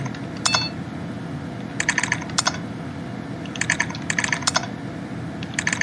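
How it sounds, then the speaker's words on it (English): Typing on a computer keyboard: quick clusters of crisp, clicky keystrokes come in short bursts separated by pauses, close and clear over a low, steady background hum. "You can imagine me typing through DOS command prompts."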